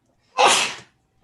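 A single sharp human sneeze, close and loud, a brief burst standing alone against near silence.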